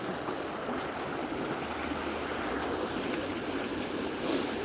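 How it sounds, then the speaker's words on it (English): Running water of a mountain stream at night, a steady broadband rush with no breaks, close and fairly loud, with a faint low rumble underneath. "it might just be the running water"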